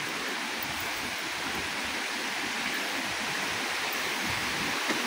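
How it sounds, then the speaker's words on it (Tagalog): Balagbag Falls pours in a steady, dense roar of falling water, a constant broadband rush without pauses, fairly loud and close, with no talking. "narinig ko na yung bagsak ng falls"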